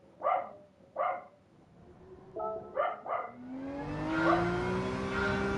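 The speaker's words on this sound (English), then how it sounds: "Oh yeah, dog's barking again." A dog barks twice up close in quick succession, then twice more after a short gap, over the steady hum of a Gran Turismo 7 race car idling and rising in revs.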